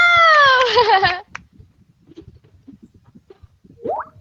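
A cat meows once, close and clear with a drawn-out wavering tone lasting about a second, followed by quiet room noise and a faint short squeak near the end.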